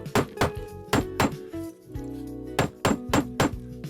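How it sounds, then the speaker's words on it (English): A rubber mallet hammering a handmade copper wire ear hook on a hard surface, sharp close taps in quick pairs with short pauses between, ringing slightly. "Now you can use either a leather mallet or rubber mallet."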